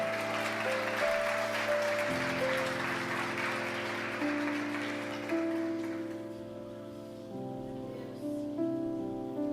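A church congregation standing for a worship service claps in a broad, hissing wash of applause while sustained keyboard and band chords play underneath, the clapping fading away after about six seconds as the music carries on.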